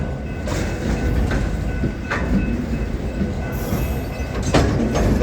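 Freight train hopper cars rumble steadily past close by, a continuous loud low roar of rolling wheels with periodic clunks and clacks as wheels cross rail joints, plus faint high metallic squeal.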